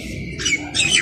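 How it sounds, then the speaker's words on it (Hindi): A crow caws twice in quick succession, harsh squawks fairly close, over a low background rumble. "शरारती कौवा,"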